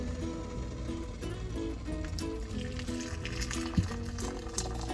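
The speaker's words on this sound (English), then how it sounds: "So we're going to add 1 3/4 cups of boiling water." Boiling water from an electric kettle is poured into a dehydrated camping meal pouch, a continuous close gurgling fill whose pitch rises as the pouch fills, with a small clunk near the end.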